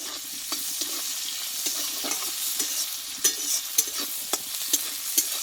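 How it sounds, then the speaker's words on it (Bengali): Crushed garlic and onion fry in hot oil with a steady, close sizzle, punctuated by light scraping clicks of a utensil stirring the pan. "এই তেলটা পেঁয়াজটা ভেজে নিয়েছি আর দেবো থেতে করা রসুন"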